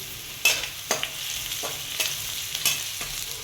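Ingredients sautéing in a pan for masala Maggi noodles, an even sizzle broken by regular scraping stir strokes about every half second, close and clear with no talking.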